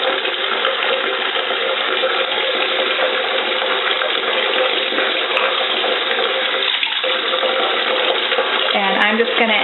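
A faucet runs steadily into a sink basin being filled with water for washing wool, a continuous close rushing splash throughout, with a voice briefly speaking near the end.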